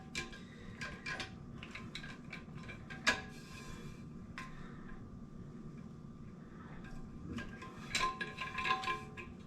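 A nut is tightened onto a toilet tank handle during a Fluidmaster repair kit fix, giving sparse close metallic clicks, ticks and small clanks scattered over a quiet room background.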